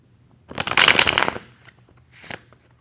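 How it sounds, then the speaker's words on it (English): Tarot cards riffle-shuffled in a quick burst, then squared with a brief second flutter, close and fairly loud with no talking. "I want to do one more shuffle."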